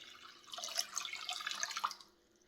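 Lukewarm water poured into a bowl of rapid rise yeast and sugar for cinnamon raisin bread dough, a faint, close, brief trickling splash lasting about a second and a half before tapering off.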